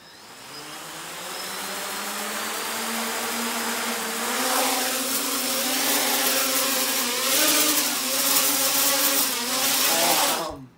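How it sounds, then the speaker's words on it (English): Drone motors spinning 3D-printed propellers on a test build, a steady whirring drone with rising and falling pitch that builds and holds loud throughout before cutting off at the end. "I got the motors turning in the right direction now."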